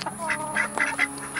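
Farmyard ducks quacking in a quick run of several short, nasal calls, close and fairly clear, lasting just over a second.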